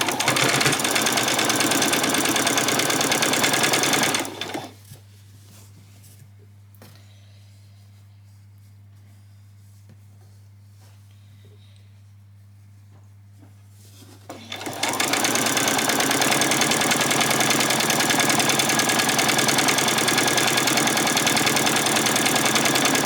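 A home sewing machine stitches ruffles for a spring outfit, running loud and steady for several seconds, pausing briefly, then whirring again in a second long, even burst.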